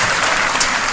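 A ceremony audience applauds to welcome a speaker at a scholarship award event, a dense, loud, continuous wash of clapping filling the whole brief moment with no voices.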